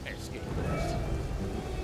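A thunderstorm with rain near the coast in the video game Risen 2, a broad steady rumble and hiss of downpour with low thunder, heard under someone talking.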